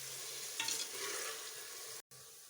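Onions turning light golden brown in hot oil, frying for a chicken and chana dal dish, give a steady close sizzle with a brief stir near the middle and a short cut just after two seconds.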